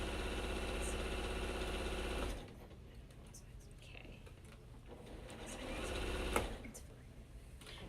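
Sewing machine stitching a quilt, a loud steady mechanical whir that runs for about two seconds and then stops, followed by quieter handling noises and a brief second burst of machine sound.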